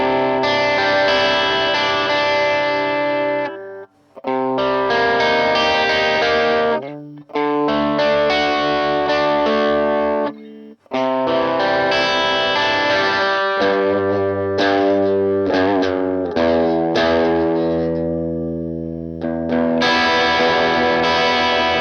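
An electric guitar plays through an Orange Pedal Baby 100 power amp, loud distorted chords and riffs ringing in sustained phrases with short gaps between them, no talking.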